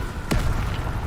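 A Confringo fire blast spell explodes in Hogwarts Legacy: one short, punchy burst with a low thud and a brief rumbling tail, heard fairly close.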